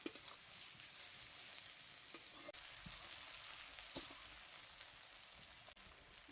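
Onion and spices fry in a pan, giving a steady, close sizzle throughout with a few faint clicks and stirring sounds. No one speaks.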